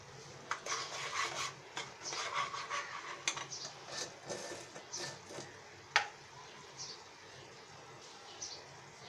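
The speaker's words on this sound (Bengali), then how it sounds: "আমি এটা একটু নাড়তে থাকবো" Semolina is stirred in a cooking pot with salt added, giving soft, irregular scraping and rubbing with a few light clinks against the pot, fairly close and quiet.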